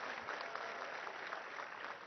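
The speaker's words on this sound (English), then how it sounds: "I think you should welcome him with a good round of applause Prashant Reddy gariki" At an Engineer's Day event at JNTU, an audience gives a minister steady, dense applause that holds at an even, moderate level throughout, with no voices above it.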